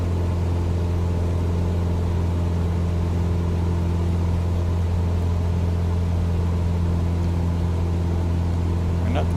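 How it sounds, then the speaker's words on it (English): Steady, loud simulated engine drone of a Cessna 172 at high revs in a flight simulator, a continuous tonal hum with strong low harmonics holding unchanged throughout, without voices. "And there goes the engine complaining about the revs."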